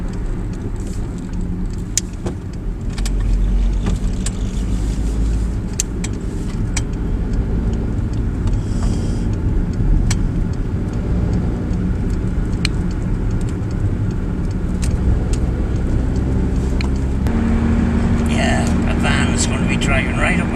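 A car driving at night around a roundabout, with a low, steady engine and road rumble throughout, scattered clicks and rattles inside the cabin, and a person talking over the drive.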